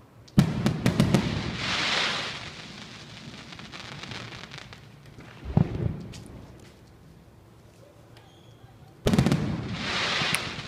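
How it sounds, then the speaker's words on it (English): Fireworks bursting over Chiang Mai during the Loi Krathong festival: several sharp booms followed by crackling, sizzling trails that fade between bursts, one big blast near the start and another near the end, heard from a distance outdoors. "So I'll be quiet and you can watch some fireworks with me here."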